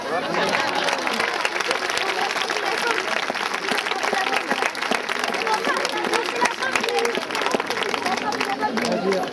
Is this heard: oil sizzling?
no